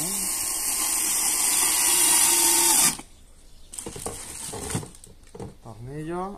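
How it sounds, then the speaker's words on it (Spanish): A power screwdriver drives screws into the dashboard of a vintage car, a steady loud whir for about three seconds, then stops, followed by quieter clicks, taps and handling noises, with speech nearby. "Vamos a atornillar primero esto"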